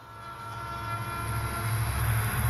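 Train passing in a station area on the line to Hel, a steady rolling rumble that slowly grows louder across the clip, with no voices over it.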